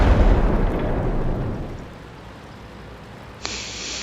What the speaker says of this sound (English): I hear some exploding over there.